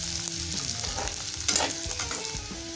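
Onion and garlic frying golden in a pan for spinach kofta curry, with a steady close sizzle and occasional stirring scrapes and clinks throughout.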